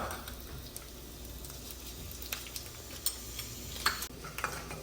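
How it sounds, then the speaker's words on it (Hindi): Whole cumin seeds roast in a hot pan with oil, giving a faint, steady sizzle broken by a few sharp crackles and pops near the end. No voices. "अब मैं इसमें डालूंगा जीरा।"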